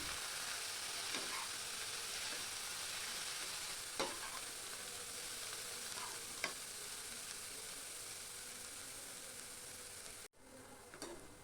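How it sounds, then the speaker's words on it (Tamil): Grated beetroot and onion sizzle steadily while being stirred and fried in a pan, a continuous close crackle with occasional scraping clicks of the spatula and no talking. "இப்போ இந்த வெங்காயத்தோடு சேர்த்து நல்லா பெரட்டி விட்டு வதக்கிக்கலாம்"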